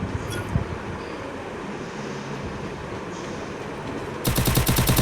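Gunfire in the mobile battle-royale game Free Fire: a steady roar of game sound, then a loud, dense burst of rapid automatic shots near the end.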